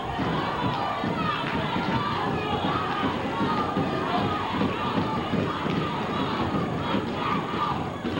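Wrestling arena crowd roaring and cheering for Ricky Morton during a bout against Bobby Eaton, a dense, steady wall of shouts and yells filling the whole stretch, with voices tangled into the din.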